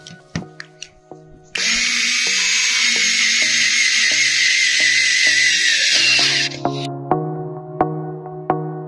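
A power drill drives screws to fix a roof skylight into wood on a Fiat Ducato L3H2 van, starting with short taps and then running as one long steady loud whir for about five seconds, followed by knocks and clunks.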